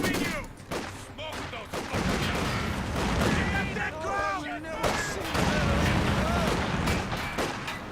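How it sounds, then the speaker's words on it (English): Machine gun fire and bursts of battle noise come from the World War II strategy game Company of Heroes 2. Repeated rapid volleys and booms overlap voice lines and talk throughout. "Oh no, they got me with the machine gun."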